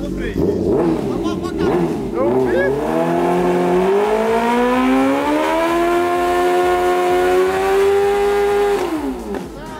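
A Honda Hornet motorcycle at a new house revs hard and close, its engine note climbing and then holding in a loud, steady high-rpm drone for several seconds before dropping off. Individual exhaust pops are not clearly distinguishable.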